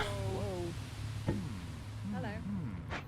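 Cat meowing in the video game Pumping Simulator 2, several short rising and falling meows scattered across a few seconds over a steady low background hum.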